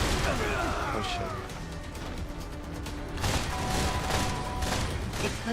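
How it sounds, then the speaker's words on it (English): An explosion hits an enemy abductor during combat in the game Freedom Wars, with several loud bursts and crashes standing out over a dense, continuous wash of battle noise and effects. "Explosion detected in enemy abductor."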